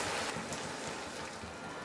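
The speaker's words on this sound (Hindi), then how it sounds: "अब इसमें हम शामिल करेंगे 1/2 कप पानी" A half cup of water hits chicken frying in a pan, producing a loud rushing hiss and bubbling burst that fades slightly over its short length.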